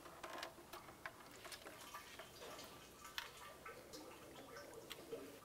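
Engine oil drips from the drain plug of a 1998-2002 Lincoln Navigator into a bucket, heard as faint scattered ticking drips and small splashes at an irregular pace, close but quiet, with no talking.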